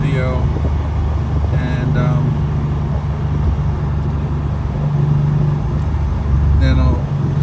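A Porsche 964 driving along, its engine a steady low drone with road noise, rising slightly at moments, while someone speaks over it.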